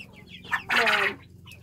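A Coucou hen clucks while agitated, a couple of short nasal calls followed by one louder drawn-out squawking cluck, close and alone with no talk.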